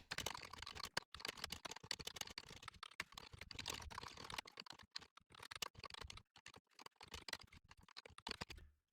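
Code being typed on a computer keyboard, a steady stream of quick close key clicks with brief pauses, fairly quiet, with no speech.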